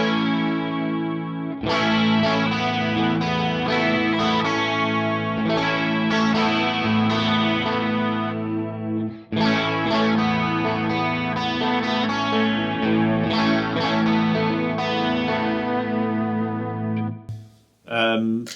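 Electric guitar through a Line 6 Helix Mod Clean modulation patch, shimmering with chorus and echo, strummed chords ringing continuously and loud for most of the span, with a brief dip near the end.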